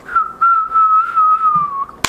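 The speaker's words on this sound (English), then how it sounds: "that was a really sad whistle" A single person whistles a long, wavering tune near the mic, dipping slightly in pitch, ending with a brief clatter.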